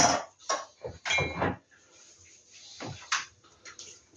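Dishes are washed at close range, with scattered clinks and clatters of crockery and cutlery, splashes and scrubbing coming in irregular bursts and short pauses between.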